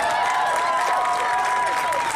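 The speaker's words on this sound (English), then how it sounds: "one more round of applause for the WNFC for having us out here" An audience at a WNFC championship event applauds in a short, continuous burst of clapping while ringing tones from a music setup hum underneath.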